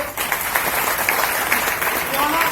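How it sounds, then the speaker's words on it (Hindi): Crowd applause at a business gathering, a short dense stretch of many hands clapping at once, fairly loud with some voices underneath. "एक बार ताली बजा दी सभी लोगों को"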